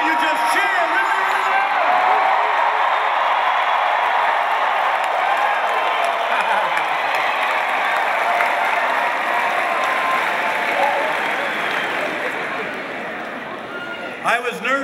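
A large crowd at a political victory rally cheers, whoops and applauds loudly and continuously, the roar tapering slightly toward the end.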